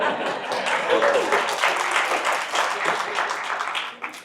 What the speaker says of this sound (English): If you don't understand the claps, you're not from Chicago.